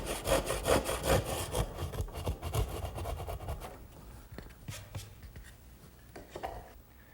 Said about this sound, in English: Now my 10-point crosscut saw does a good job finishing up the corners.